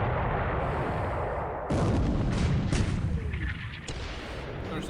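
Heavy 8-inch naval shells fire in a World War II strategy video game, a loud deep booming rumble that swells into a second blast and lingers over a dense, noisy background.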